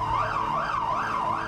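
An ambulance siren wails loud and close, its pitch rising and falling in a steady repeating sweep.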